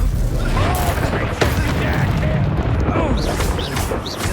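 Incendio fire spell cast in Hogwarts Legacy, heavy booming bursts and whooshing magical blasts layered with crackling combat effects and a low rumble, loud and continuous throughout.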